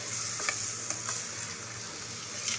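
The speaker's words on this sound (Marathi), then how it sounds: "थोडंसं हलवून घ्यायचं आहे." Masale bhat rice gets stirred in a hot pan, with a soft continuous sizzle and a few scraping strokes of the spoon, close and fairly quiet.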